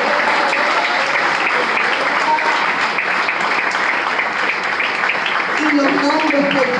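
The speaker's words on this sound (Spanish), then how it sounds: "Denle un aplauso al Señor." A church congregation bursts into steady, dense applause that fills the room at full volume, with a few voices and cheers rising through the clapping toward the end.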